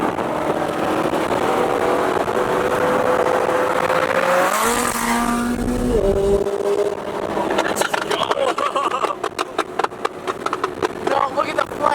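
A McLaren 720S supercar revs loudly nearby, its engine tone climbing and then dropping with a brief tire squeal, followed by rapid exhaust pops and crackles as voices talk over it.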